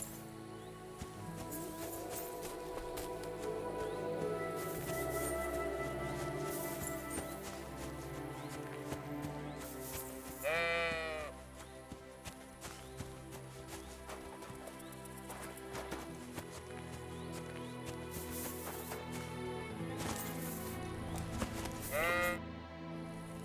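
Sheep bleat a couple of times in Kingdom Come: Deliverance II over a busy, steady game soundtrack with clopping hoofbeats, the calls short and moderately loud.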